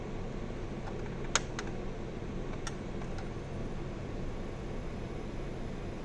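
Buttons on an LS SV-iS5 inverter keypad are pressed in a few sharp, quiet clicks over a steady background hum.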